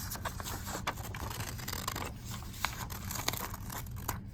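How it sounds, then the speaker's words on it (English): Scissors cut through paper close up, making a steady series of crisp snips and rustling scrapes over a low background hum, with no one talking. "When cutting, it is helpful to use the inside of the scissors."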